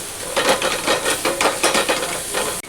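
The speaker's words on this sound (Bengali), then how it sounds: "মাছগুলো আবারও এর মধ্যে দিয়ে দিচ্ছি, দিয়ে ভালো করে কষিয়ে নিচ্ছি।" Fish being sautéed in spice paste in a pan, rhythmic scraping stirs over a close, lively sizzle, ending with a sharp knock.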